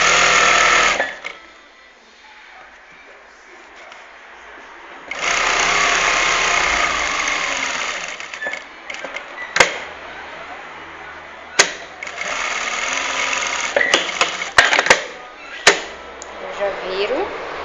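Sewing machine stitching a shirt collar, running in bursts with pauses, with sharp clicks and knocks from handling the fabric between runs.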